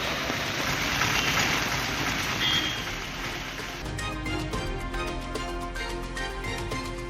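Heavy rain pours steadily in a broad, constant hiss across southern districts, loud and close, with a shift partway through to a different mix including a low rumble and faint background sounds.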